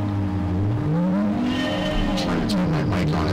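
A Porsche race car in a racing video game revs loudly with sweeping pitch changes as its engine climbs and drops, and brief tire skids squeal near the end.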